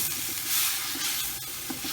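Onions with crushed garlic cloves lightly frying for moussaka, a close steady sizzle with soft stirring scrapes.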